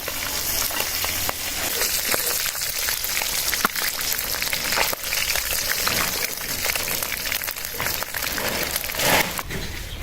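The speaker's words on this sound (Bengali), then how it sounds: "মাছটা আমার ভাজা হয়ে গেছে" Sea bele fish (goby) frying in oil in a pan, a dense, continuous sizzle with crackling pops and spatter throughout, close and fairly loud with no voices.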